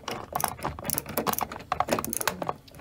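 Screwdriver driving a screw into a uPVC window frame while fitting a Velux blind: a close, steady run of small clicking, ratcheting turns with brief pauses, no talk.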